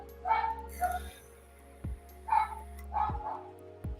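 Several dogs barking at a passerby outside a home, a few short yapping bursts at moderate distance with pauses between, under a low steady hum.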